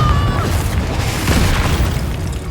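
A Confringo blasting spell goes off in the Hogwarts Legacy video game as a loud, sustained booming rumble that fills the whole moment.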